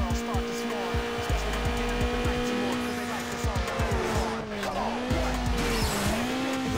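Car in Need for Speed: Underground accelerating at full throttle, the engine revving steadily with rising pitch through gear changes, tires squealing over it, loud and continuous with a faint voice underneath.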